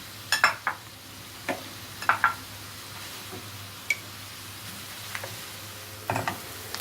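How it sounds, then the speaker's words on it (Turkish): Onions and peppers sautéing in a pan give a faint, low sizzle beneath scattered sharp clicks and scrapes of a utensil stirring, sparse taps coming every second or so, close up and quiet. "Soğanlarla beraber biberlerimizi de atalım. Onlar da beraber kızarsınlar."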